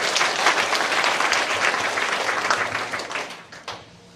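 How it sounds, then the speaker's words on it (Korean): A church congregation at a Wednesday worship service claps together after a hymn, a dense burst of applause that fades out over a few seconds. "박수 한번 할게요"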